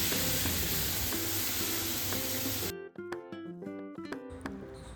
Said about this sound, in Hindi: उसके बाद मैंने दाल में तड़का लगा दिया।